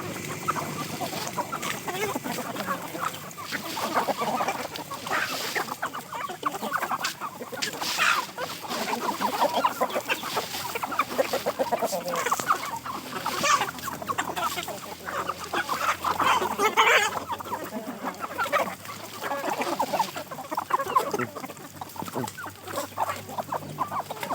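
Hens and chickens clucking and squabbling at an evening corn feeding, a busy, continuous chorus of close clucks and squawks with some honking fowl mixed in.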